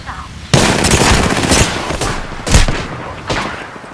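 Continuous heavy automatic gunfire in an Apex Legends firefight, loud and dense, with several bursts swelling and easing over a few seconds.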